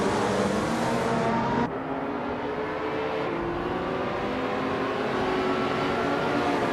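A 1996 Porsche 911 GT races at Atlanta Motor Speedway in a racing game, its engine a loud, steady, high-revving drone that shifts pitch once early and then holds, with no talking.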